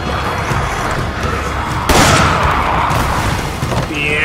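Pistol gunfire in Resident Evil 5, a sharp loud crack near the middle over dense game noise and combat din, with a few fainter hits following and a high electronic tone near the end.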